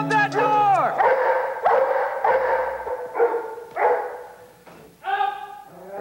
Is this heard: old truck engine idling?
no